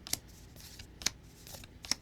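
Cards from an Adventures in the Forgotten Realms Magic set booster pack are handled quietly: three crisp flicks and slides of the cards spaced about a second apart over a soft background.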